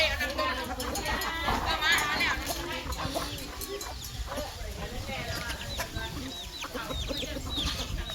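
Chickens cluck and squawk close by amid a busy outdoor scene at a Thai arm-tying (phuk khaen) celebration, with people chattering in the background as chickens are caught.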